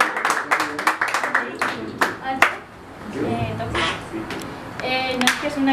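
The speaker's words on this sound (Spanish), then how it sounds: "Buen aplauso también" Applause at a birthday celebration with a youth mariachi group, a few people clapping in quick, uneven rhythm that thins out midway, with talk over it and voices continuing afterward.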